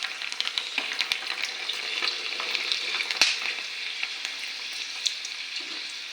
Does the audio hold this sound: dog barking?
no